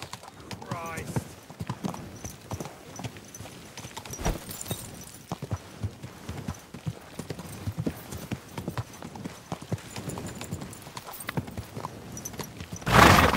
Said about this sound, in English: First time riding a horse, you moron.